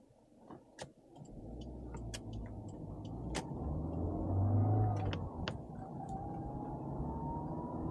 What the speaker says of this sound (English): All right, let's go for a drive in the Celica.